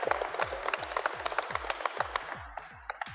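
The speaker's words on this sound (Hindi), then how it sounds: "मैं चाहूँगा आप सभी इनके पेरेंट्स के लिए इन कोच की तालियां बजाएं" Crowd clapping at a welcome ceremony in Hansi honoring an SDM and a young girl, a steady run of applause with a rhythmic thumping beat beneath it, fairly faint and fading toward the end.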